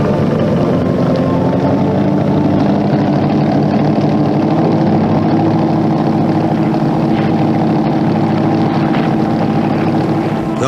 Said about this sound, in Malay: Perahu-perahu kami ditarik ke tengah laut dengan motor itu.